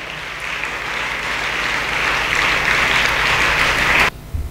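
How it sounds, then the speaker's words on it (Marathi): An audience of schoolchildren and guests at a school event claps steadily and loudly for about four seconds, then the applause cuts off abruptly. "टाळ्या वाजून मनापासून कौतुक करा."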